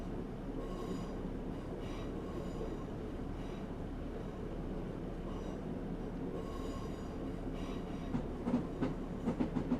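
A Class 150/2 diesel unit runs steadily along the line in Train Simulator 2018, a constant low rumble with a faint engine drone and light rhythmic wheel clicks toward the end.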